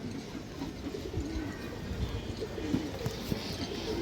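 Pigeons coo softly in a loft. The low calls are faint and come in intermittent bursts over a grainy background hum.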